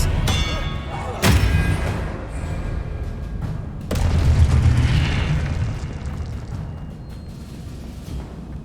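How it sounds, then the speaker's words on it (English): The Expelliarmus spell is cast in Hogwarts Legacy on PS5, with two sharp booming blasts, the second heavier and trailing into a rumbling roar, over a constant bed of game noise. "Expelliarmus!"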